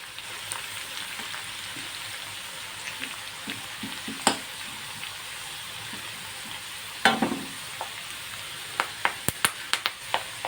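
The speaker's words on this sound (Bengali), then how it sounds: "দেখুন চটর পটর হচ্ছে।" Spices and potatoes fry in hot oil for chire pulao, flattened rice cooked in a home kitchen. A faint, steady sizzle runs throughout, broken by scattered sharp crackles and pops that grow more frequent toward the end.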